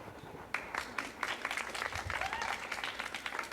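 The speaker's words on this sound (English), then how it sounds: "See, I'm clapping." Applause from a small group fills the scene, a burst of quick overlapping claps that starts abruptly and carries on at moderate level with a hint of room noise.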